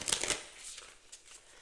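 A deck of cards is shuffled off camera during a card reading, with a few quick, crisp riffling bursts at the start that fade into softer rustling, quiet and close with no talking.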